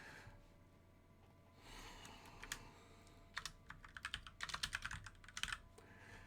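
Quiet clicking of keys on a computer keyboard, sparse at first, then bursts of rapid typing that cluster toward the end, close and soft with faint breathing behind.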